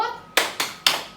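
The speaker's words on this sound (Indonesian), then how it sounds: "coba kita tepuk salut dulu" A group claps a rhythmic 'tepuk salut' salute: three sharp, crisp claps at an even, quick pace, close and fairly loud, each with a short ringing decay.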